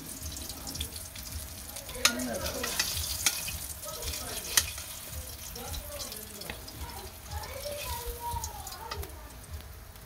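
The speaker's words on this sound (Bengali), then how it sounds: "দেখুন উচ্ছে আলু ভাজি করে উচ্ছে দিয়ে দিলাম" Bitter gourd and potatoes sizzle and crackle in a pan while a utensil stirs them, with occasional clinks and scrapes rising above the steady frying.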